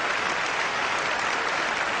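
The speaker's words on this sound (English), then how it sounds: "Let's applaud for him because it's good." Audience at a magic show applauding a volunteer, a dense, steady burst of clapping heard close and loud throughout.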